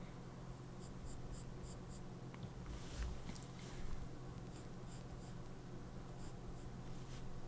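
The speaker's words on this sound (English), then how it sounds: "Drawing this curve, it's like, boom, so satisfying." A drawing tool scratches across paper to trace a curve, a soft, continuous close-up scraping with a couple of slightly louder strokes, over a faint low hum and no talking.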